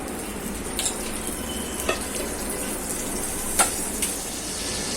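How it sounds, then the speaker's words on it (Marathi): Butter sizzles on a hot tawa griddle while egg and cheese pav cooks, a steady crackling hiss with a few sharp scrapes and taps of a utensil, close and continuous with no talking. "आता त्याच तव्यावरती आपण"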